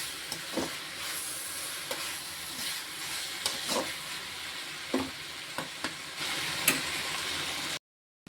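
Vegetables frying with curry masala powder for chapathi noodles, a continuous close sizzle and hiss broken by repeated scraping stirs of a spoon in the pan, ending in a brief silence.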